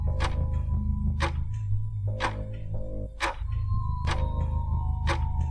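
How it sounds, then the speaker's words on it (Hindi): A household wall clock ticks steadily in a silent house late at night, each sharp tick spaced about a second apart and standing out clearly over a low constant hum. "घड़ी की आवाज़।"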